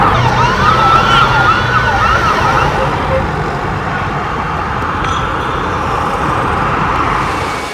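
Emergency vehicle sirens wail in central Israel after a missile strike as fire responders arrive, a rising and falling siren fairly near at first, then giving way to a steady, loud background of traffic and street noise.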